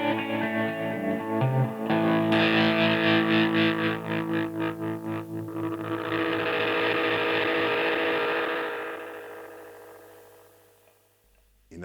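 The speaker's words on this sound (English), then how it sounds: "extreme settings of the repeat knob lead to infinite self-oscillation" A NUX Tape Echo delay pedal in infinite self-oscillation, repeats stacking into a swelling, warbling sustained drone with pulsing layers that build, hold, then fade away near the end.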